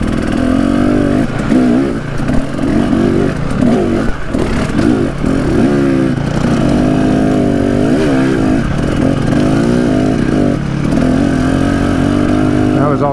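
A dirt bike on a rocky creek loop trail, ridden in second gear, buzzes up close throughout, its engine note wavering with throttle blips as it clatters over rocks, with occasional voices faintly underneath.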